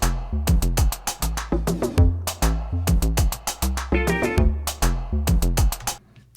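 A song produced in Logic plays back with a punchy electronic beat, deep bass and steady rhythmic synth hits throughout, loud and without voices, fading at the end.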